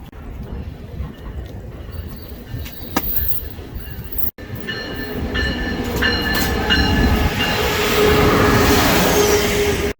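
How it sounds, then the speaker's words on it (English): A train rumbles and clatters in King Street Station, Seattle, with metallic squeals and a hollow echoing hall; the noise swells louder toward the end. "Here we are in King Street Station in Seattle at the train station."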